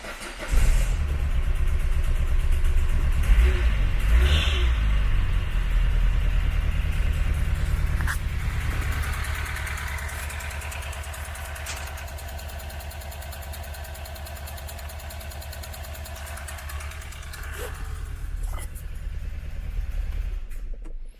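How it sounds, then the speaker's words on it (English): A 1992 Renault Clio mk1 1.4 RT engine idles roughly with an uneven, stumbling misfire, a loud steady low rumble close by that holds throughout with occasional clunks and no talking. "That misfire and horribly rough running would suggest that all is not quite well"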